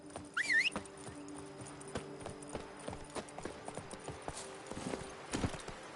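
In The Witcher 3, the horse Roach gallops in a quick, steady clip-clop of hooves, moderately close, with a brief high cry near the start.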